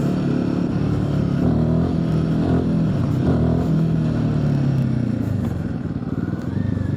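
Royal Enfield Himalayan 450 motorcycle being ridden, its engine droning loud and close with shifting revs and a steady exhaust note that dips briefly near the end, no talking.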